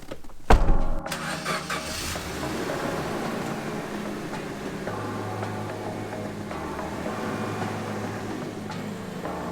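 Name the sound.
Suzuki Jimny 4x4 engine starting and driving off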